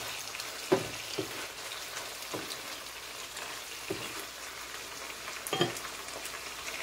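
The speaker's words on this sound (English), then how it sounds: "I'm gonna add in my okros" Okra dropped into a hot pan with salt mackerel crackles in a steady low sizzle, with a few sharper pops and spits scattered through, close and fairly quiet, no voices.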